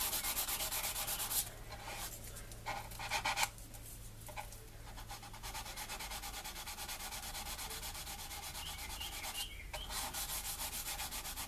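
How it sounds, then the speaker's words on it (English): A sanding stick rubs steadily over a plastic scale model of the USS Enterprise, a close, dry rasping with several short, firmer strokes early on and then smoother continuous scrubbing. "sanding it off, getting it all nice and smooth, just makes it look a little bit more realistic"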